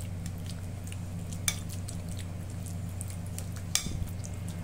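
Cabbage salad being mixed with melted cream cheese in a kitchen: soft, steady stirring and scraping in a bowl over a constant low background hum, with two brief clicks of a utensil against the bowl and no talk.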